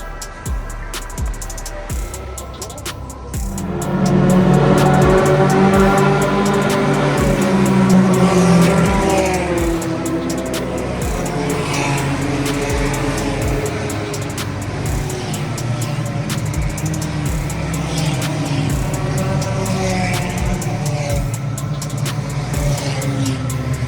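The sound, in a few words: race cars racing at Interlagos circuit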